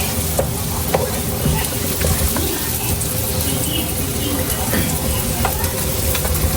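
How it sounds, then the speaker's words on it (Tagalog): Garlic and onion sauté in a hot pan, a steady dense sizzle with scraping stir strokes throughout, close and fairly loud, with no speech over it. "Magigisa na po siya ng bawang at sibuyas."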